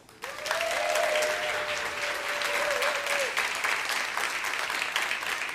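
A debate audience breaks into steady applause as a speaker is introduced, starting abruptly and holding loud and dense throughout, with a thin sustained tone running over the clapping for the first few seconds.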